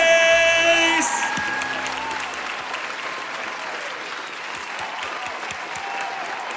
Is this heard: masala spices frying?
no